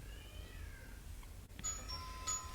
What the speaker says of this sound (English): Who rings the bell like 3 times at the same time, like at a go?